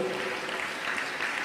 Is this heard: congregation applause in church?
yes